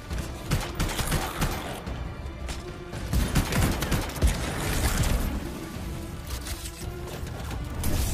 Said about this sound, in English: Oh, who is shooting at me?